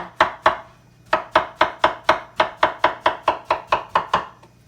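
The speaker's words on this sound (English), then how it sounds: "let me slice these bananas up here" Knife slicing bananas on a cutting board for banana pudding, a quick regular series of about fifteen crisp chopping taps with a short pause after the first two, close and clear with no talking.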